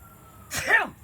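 One sudden, close sneeze: a quick breathy burst that ends in a short voiced cry, with quiet room hum around it.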